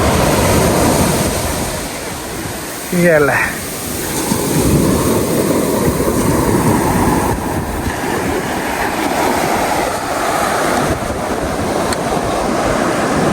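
Sea waves wash and crash on the shore, a loud continuous roaring surf near at hand with surges rising and falling, and a brief voice heard once over it.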